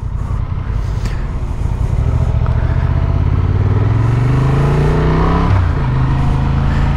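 Honda XL750 Transalp motorcycle engine accelerating, its pitch climbing steadily as it revs up through the gears, loud and close with a brief dip partway through, no talking heard.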